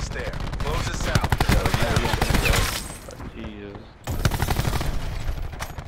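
Rapid automatic gunfire in a shooter video game, dense bursts of shots for several seconds, a brief lull, then firing resumes loudly; a voice is mixed in.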